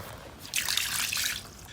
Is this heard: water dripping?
yes